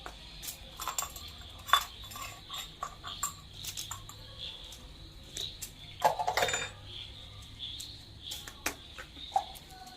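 Spoon and cooking utensils clinking while food is prepared on a stove at dusk, scattered light metallic taps and chinks at irregular intervals, fairly close, over a steady background of insects chirping.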